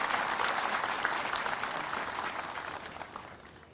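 A municipal event audience claps steadily in a dense wash of applause that slowly fades over a few seconds, with no talk.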